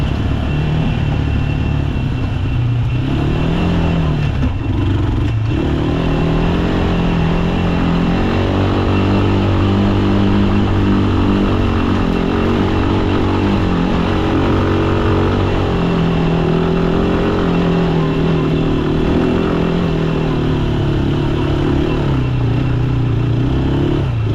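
A Rusi motorcycle engine runs loudly and continuously up close, its pitch rising and falling as the throttle changes, with road rumble and rattling underneath.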